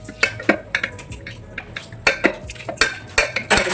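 Dishes, pots and cutlery being washed in a home kitchen, giving irregular sharp clinks and clatters of metal and crockery, fairly close, with no talking.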